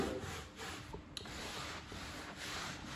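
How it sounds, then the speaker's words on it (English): A brush scrubs car carpet back and forth after a degreaser is applied, giving a soft, close, steady rubbing sound that rises and falls with each stroke and has one faint tap in the middle. "So we're just gonna scrub back and forth a little bit."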